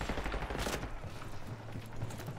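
Rapid automatic gunfire from a Call of Duty: Black Ops 6 multiplayer match, dense bursts of shots running continuously and loud throughout with no talk over it.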